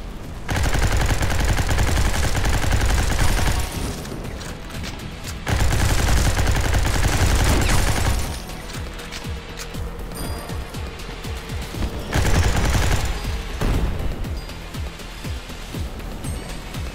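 Gunfire with flaming bullets in the top-down game Gene Shift Auto, loud bursts of rapid automatic shots in three heavy stretches separated by quieter gaps with scattered distant shots.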